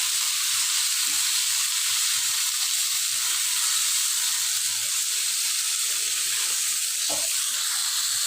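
Rohu fish pieces fry in hot oil in a pan, giving a dense, continuous sizzling hiss at close range with no talking over it.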